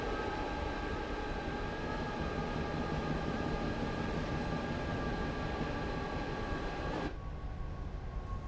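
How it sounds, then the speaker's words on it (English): A Class 87 electric locomotive running in the video game Train Sim World 5, a steady loud rumble with tonal motor whine, continuous throughout and shifting slightly in character near the end. "The locomotive, Mikko, is the Class 87"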